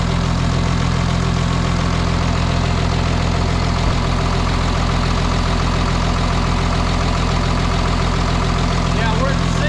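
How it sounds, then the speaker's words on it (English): A car engine idles smoothly and steadily with no misfire, a loud continuous low rumble holding an even rhythm throughout. "It's idling perfect. There's no misfire or nothing."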